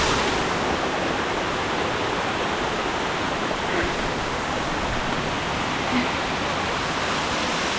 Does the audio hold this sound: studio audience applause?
no